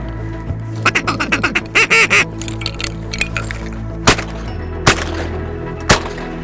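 Ducks call during a late-season waterfowl hunt, loud quacks and honks in rapid bursts up close, then sharp isolated gunshot-like bangs at intervals, with no talking.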